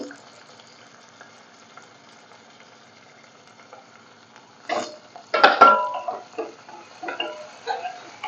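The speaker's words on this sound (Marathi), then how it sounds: "टोमॅटो आणि लसूण दोन्ही पण छान परतलं जाईल" Tomato and garlic sautéing with onion in a pan for dhaba-style dal fry, a soft steady sizzle that swells into louder frying and stirring noises partway through.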